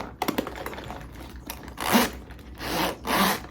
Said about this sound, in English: It's like a double zipper, see?